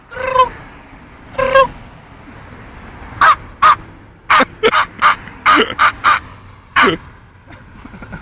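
A man imitates a raven with his voice, giving two slow croaks followed by a quicker series of about nine short, loud guttural calls, close and clear with no other talk.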